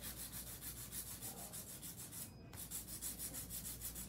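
A hand file rubs steadily back and forth across a nail surface, close up, in even rhythmic strokes with one brief pause, no talk.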